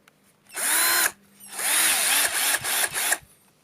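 A cordless drill runs in hammer mode, giving two close, loud whining bursts with a brief pause between, the second ending in a few quick stutters.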